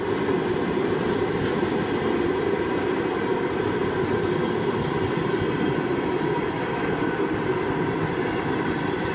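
A train's wagons rumble steadily along the rails in Uzbekistan, a continuous loud rolling noise with faint rhythmic clatter throughout.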